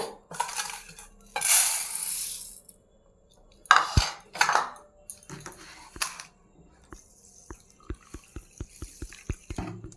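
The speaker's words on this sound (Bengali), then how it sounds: "চালটা ভালোভাবে কষলে কষলে ধুয়ে নিতে হবে" Soaked rice is washed by hand in water for masala dosa batter, wet swishing and splashing in bursts, then a run of sharp drips and small clinks near the end, with no talking.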